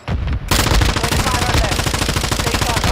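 Video game gunfire, a loud sustained burst of rapid automatic shots right up close, starting after a brief lead-in and running steadily to the end.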